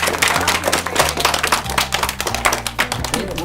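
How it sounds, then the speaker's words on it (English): A group of students applauds with quick, dense clapping that continues throughout, while a low sustained musical tone underneath shifts pitch. "Give him a round of applause,"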